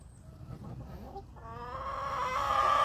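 Hens cluck steadily on a farm, a soft staccato at first that swells into a louder, sustained squawking cackle near the end, close by with no talk.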